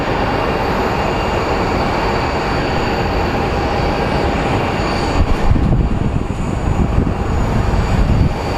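A jet aircraft at Phoenix Sky Harbor Airport gives off a loud, steady broadband engine roar that swells slightly toward the end, heard at fairly close range with no speech.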